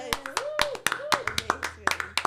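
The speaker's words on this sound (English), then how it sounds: "everybody should applaud for everybody else" A small audience claps after a performance, scattered individual hand claps with sharp irregular hits, heard close and mixed with voices speaking and calling out over the applause.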